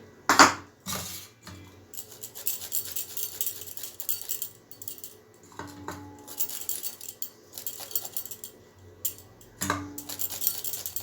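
Ginger and garlic rubbed against a kitchen grater, giving quiet scraping strokes in irregular bursts with short pauses between them, close by and with no voices.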